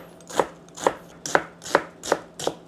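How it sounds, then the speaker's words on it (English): A knife cuts onions lengthwise on a board, six crisp, evenly spaced chops landing close and clear at a steady, unhurried rhythm. "Onions, I'm just gonna cut them lengthwise like this."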